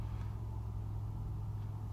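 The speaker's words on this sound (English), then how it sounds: "So the car was all warming up." A Mercedes idling as it warms up, a low steady engine rumble with an even hum and no revving, heard from inside or near the car with nothing else over it.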